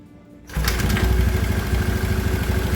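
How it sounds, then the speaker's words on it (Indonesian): A repaired motorcycle engine starts after a short quiet moment, then runs loud and steady at idle with a continuous rough drone close by. "Coba nyalakan aja Wan"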